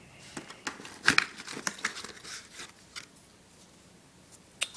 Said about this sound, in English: Excuse me as I open the knife. Let's cut this down.